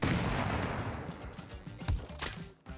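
Gunfire and a grenade blast during a firefight in the survival game Rust, a dense burst of loud shots early on, then scattered sharper cracks and a thump near the end, with no talk over it.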